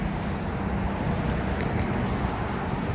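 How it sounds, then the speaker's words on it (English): Steady, continuous road roar of passing traffic on the Las Vegas Strip, a broad low rumble with wind-like hiss and no distinct breaks, fairly loud throughout. "Enjoy the sound of the speeding cars."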